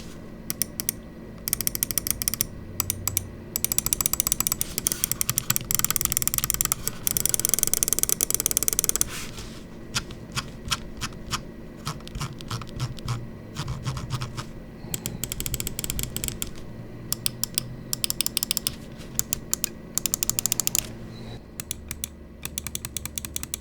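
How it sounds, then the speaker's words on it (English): Rapid bursts of small crisp mouse switch clicks from an Unius Black Lotus mouse come in quick runs and pauses, sharp and close, with a few faster clusters of clicking. "we will drop a proper click quality sound test"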